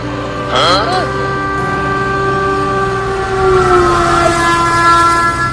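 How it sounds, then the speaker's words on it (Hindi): A cartoon train approaches along the track, with a steady droning horn-like tone, a rumbling engine underneath and a wavering siren-like wail, loud and continuous, with voices heard briefly. "आगे से ट्रेन भी आ रही है"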